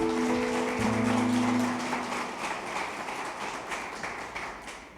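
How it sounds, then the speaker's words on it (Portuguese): A church congregation at a Portuguese-language celebration service claps in praise, steady brisk applause from a room of people, joined briefly by a held musical tone at the start and then continuing on its own before fading slightly. "Dê uma salva de palmas ao Senhor"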